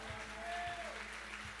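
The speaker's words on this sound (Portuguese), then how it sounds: "Você pode aplaudir o Senhor?" A church congregation applauding during a worship service, a brief, steady patter of clapping held at a moderate distance, with a faint tone from a sustained instrument underneath.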